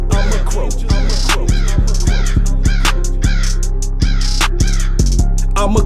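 Loud crow caws repeat throughout, several harsh calls in an irregular rhythm over a steady low buzzing hum, with no talking.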